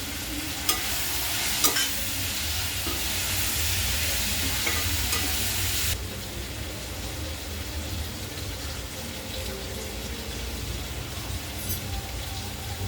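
Mushrooms with black pepper stir-fried over a high flame, a loud steady sizzle with scraping stirs and a couple of sharp clacks, easing to a quieter crackle halfway through.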